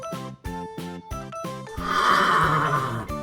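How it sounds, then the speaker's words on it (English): A horse neighs and whinnies loudly in repeated bursts, with a longer drawn-out whinny toward the end, close and clear with no talking. "H-O-R-S-E, horse."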